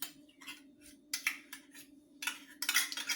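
A spoon scoops half a cup of thick apple butter into a bowl for an apple cider doughnut cake, giving several close, intermittent scraping clinks in short bursts over a faint steady hum.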